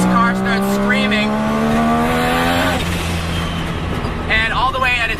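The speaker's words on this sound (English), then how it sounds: "at higher RPMs, this car starts screaming" A three-rotor Mazda RX-7 engine revs hard, its rising whine climbing in pitch before dropping, then building again, loud and close, with a voice talking over it.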